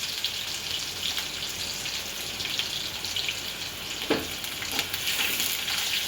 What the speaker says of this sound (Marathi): तेल चांगलं तापलेलं आहे, त्याच्यामुळे फास्ट लाल झालाय कांदा.